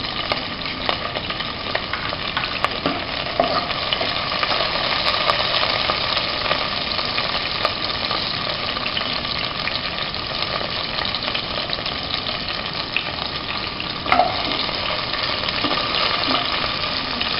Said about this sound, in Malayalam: എട്ടല്ലി വെളുത്തുള്ളി വട്ടത്തിൽ മുറിച്ചത് എണ്ണയിലേക്കിട്ട് വഴറ്റുക